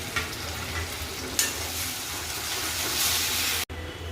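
Cornflour slurry poured into a pot of manchow soup and stirred, giving a steady close bubbling and sizzling texture with soft scraping of the spoon, briefly broken near the end.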